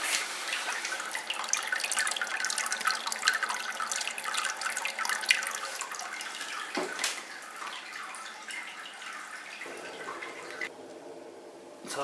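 Wort coming to a rolling boil in a Grainfather all-in-one brewing system, a steady close bubbling and hissing wash that fills the clip, with a brief knock near the middle and the roar easing slightly toward the end.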